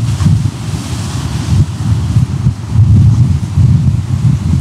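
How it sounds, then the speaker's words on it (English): Strong, steady coastal wind roars and buffets the microphone, with a low rumble throughout and no voices. "it's really windy"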